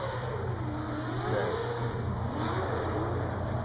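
A drift car on a qualifying run at Orange Show Speedway during HOTPIT Autofest revs hard, its engine pitch sweeping up and down in long waves, loud and continuous against a broad roar of wind and crowd noise.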